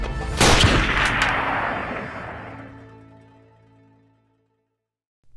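A single loud gunfire volley from a line of rifles in a dramatized battle scene, a sharp crack with a long rolling echo that fades over about four seconds, no voices.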